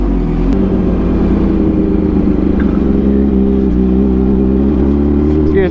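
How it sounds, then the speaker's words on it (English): A big truck rumbles close behind a cyclist on the road, a loud, steady low engine drone with a faint shift in pitch as it holds its pace. "there's a big truck behind me"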